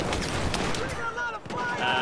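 Pistol fire and other gunshots rattle through a Battlefield 4 firefight, dense and loud for about two seconds, with a voice talking over the shooting.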